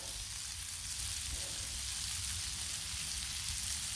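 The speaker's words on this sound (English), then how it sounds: "see the butter cooking off" Butter sizzles steadily on a Blackstone griddle beside turkey burgers, a dense, even crackle that holds close and constant throughout with no voices.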